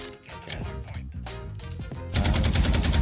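Automatic gunfire in Call of Duty Modern Warfare 2, dense rapid bursts that start moderate and turn into a loud, continuous roar of shots in the final second.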